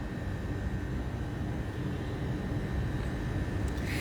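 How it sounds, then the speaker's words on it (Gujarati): Airplane flying overhead as a steady broadband roar that holds loud and even throughout, with no talk over it. "કેમ જો વિમાન જાય જવા દો"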